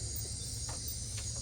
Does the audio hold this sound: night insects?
yes